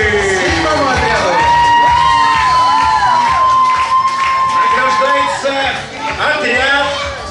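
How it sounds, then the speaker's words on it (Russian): A children's camp crowd erupts for the seventh squad at an awards ceremony, with loud cheering, shouting and whooping over clapping, sustained for several seconds and close by, while a voice carries through the noise. "Аплодисменты! Седьмому отряду."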